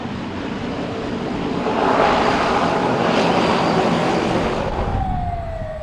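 A small propeller plane roars steadily close by as it lands on a short island airstrip, its engine drone swelling, then easing as it passes, with a faint whine trailing at the end.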